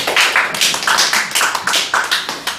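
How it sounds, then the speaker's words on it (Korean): A small group at a church prayer meeting claps hands, a quick, close burst of applause with uneven rhythmic slaps lasting a couple of seconds. "박수 받겠습니다"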